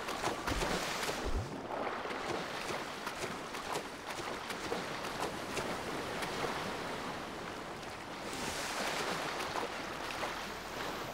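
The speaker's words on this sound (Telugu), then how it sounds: "వాటర్ సౌండ్ కూడా అదిరిపోయింది" Steady rushing and splashing water in the video game GTA 5, continuous and fairly loud throughout, with a brief swell near the start and another toward the end; no voices.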